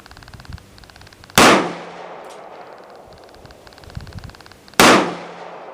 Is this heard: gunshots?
yes